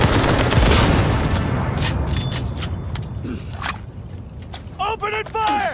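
Rapid bursts of gunfire in the video game Cyberpunk 2077 crackle loudly and densely in the opening seconds, thinning into scattered shots as voices shout over the fight.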